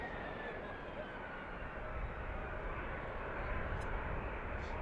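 Airliner engine roar at Washington DCA airport heard from nearby as a steady broadband rumble that swells slightly toward the end.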